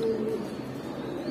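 Imported racing pigeons cooing, a low steady throaty hum that carries through the whole brief moment, close by and alone.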